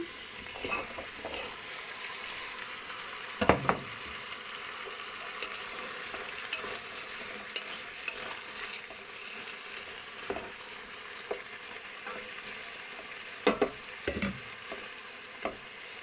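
Vegetables tipped into a hot pan over lowered heat, frying with a steady close sizzle, a few louder clatters and stirring knocks breaking through the hiss, no voices.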